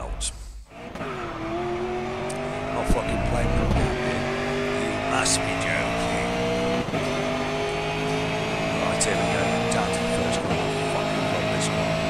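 In GRID Autosport, a racing car engine drones steadily at high revs with brief shifts and a tire squeal, loud and continuous beneath someone talking.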